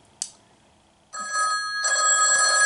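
A phone rings loudly and close, an electronic ringtone starting after a brief click and carrying on steadily to the end, with no talk over it.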